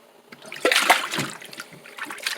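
Hot water gurgles and splashes as it is poured into a 15 by 6.00 lawn tractor tire on its rim, a close, uneven trickle rising and falling without speech.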